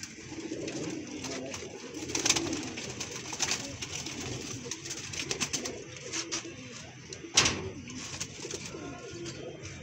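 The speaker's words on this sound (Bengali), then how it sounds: "ভালো লাগা কবুতরগুলো সেগুলো আজকে আপনাদের দেখাচ্ছি" Pigeons in a new loft coo steadily with soft, throaty repeated calls, along with scattered clicks and a few sharper knocks, all at close range with a busy background.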